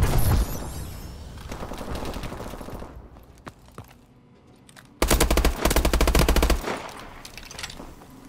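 Video game friendly missile strikes land as dense rapid-fire bursts and booms, a long roaring barrage, then a quieter gap with scattered hits, then another loud sustained volley, all close and heavy with no talk.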